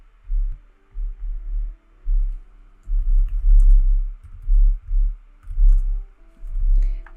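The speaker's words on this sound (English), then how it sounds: "you just want to go through each of these fields and just type in all of the product information basically" Close computer keyboard typing while product information is entered, coming in bursts of soft thuddy keystrokes separated by short pauses, with a faint hum underneath and no voices.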